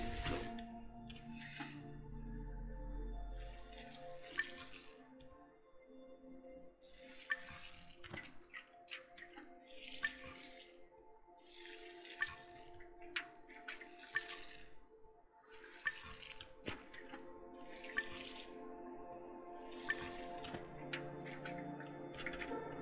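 In the video game Among Trees, a watering can pours in repeated soft splashing bursts of water, a few seconds each with short pauses between them, quiet against a faint ambient background with scattered small clicks.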